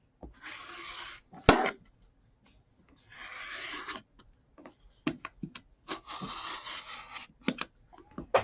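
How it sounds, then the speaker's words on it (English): Rotary cutter slicing quilting fabric around all four sides of a 6.5 inch square-up ruler to trim a half square triangle, heard as several short scraping strokes with pauses between them, close and fairly quiet. "So what I would do is I would just cut around all 4 sides"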